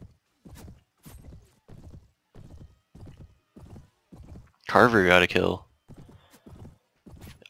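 Horse hooves clop in a steady, evenly spaced rhythm in the medieval battle game A Clash of Kings, broken by a loud, close neigh midway, while a player speaks briefly over the footfalls.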